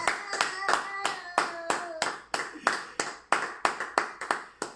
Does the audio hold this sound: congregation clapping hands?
yes